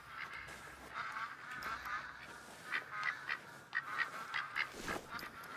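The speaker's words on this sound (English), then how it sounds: "Listen, ducks, you're very annoying." Ducks quack repeatedly in a hunting video game set by water, a steady chorus of nasal calls that grows busier and louder toward the end, with no talking over them.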